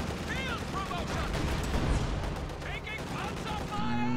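Tank and field gun fire rumble through a video game battle involving an IS-2 and a Jagdpanzer, a dense continuous din of booms and shots with chirping effects while someone talks over it.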